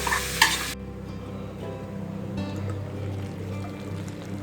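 Pepper chicken gravy is stirred in a pan, scraping and stirring sounds over a soft sizzle, with a louder burst of frying at the start that quickly settles into a low simmering bubble.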